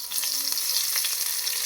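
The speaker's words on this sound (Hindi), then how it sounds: "और अब ये गर्मा गर्म तड़का जाने वाला है हमारी कड़ी पर" Hot oil tempering (tadka) is poured onto kadhi pakora, producing a continuous crackling sizzle with fine popping bursts, close and steady throughout, with no talking.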